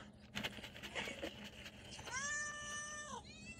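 Several pet cats meow and cry insistently while waiting to be fed, with short calls at first and then a long drawn-out wail, close and clear.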